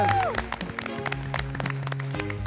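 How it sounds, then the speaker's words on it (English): Contestants in a miniature-crafting competition burst into a round of applause for themselves as time runs out, a brisk, lively clatter of clapping with cheerful crowd noise and a sliding tone at the start. "Give yourselves a round of applause."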